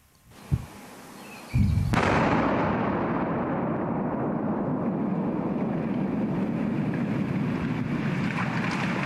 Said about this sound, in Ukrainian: Давайте послухаємо і подивимося, яким був цей вибух.